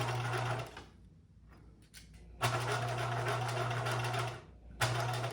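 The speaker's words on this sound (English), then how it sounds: "I'm sewing right down the center." Sewing machine top stitching down the center of a lapped fabric seam, a steady mechanical hum and rapid needle chatter in three runs broken by quiet pauses, fairly close and alone.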